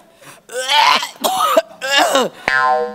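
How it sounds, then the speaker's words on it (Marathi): A person coughs and clears their throat in a series of harsh, strained, voiced bursts with short gaps between them, loud and close, during a Marathi comedy sketch. "मला खोकला."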